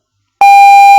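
An electronic Morse code tone sounding the letter D (Delta): after a moment of silence, a single loud, steady beep begins and carries on without a break.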